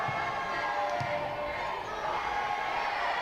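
A large crowd at a women's football match, a Champions League qualifier between Wrexham AFC Women and Riga, roars and jeers steadily, a dense wash of shouting voices that holds throughout.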